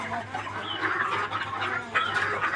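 A tiny Malaysian Serama chicken, the world's smallest breed, clucks in short, bright bursts close by, with a louder squawk near the end and quiet household noise underneath.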